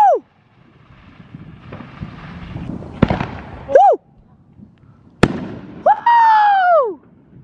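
Fourth of July fireworks heard from a rooftop, with a few whistling rockets that rise and sharp loud bangs at irregular intervals, plus faint background crackle between bursts.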